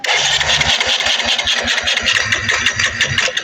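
A Kawasaki Rouser 180 motorcycle that will no longer run, with its engine cranked repeatedly in a rapid, steady chugging rhythm, loud and close, sputtering without settling into a clean idle.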